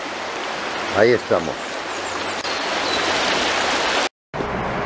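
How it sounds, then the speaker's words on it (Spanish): Small mountain streams trickle and fall along a riverside footpath near Campomanes, Pola de Lena, a steady broadband rush of water throughout, with a brief spoken phrase near the start. "Mira, mira qué regatinos, cómo cae, cómo filtran agua"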